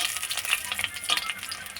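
Potato-stuffed green chilli fritters frying in oil in a kadai, giving a steady, close, bright sizzle with small crackling pops throughout.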